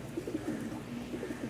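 Giribaz pigeons cooing softly, low rolling coos repeating several times in quick succession against faint background noise.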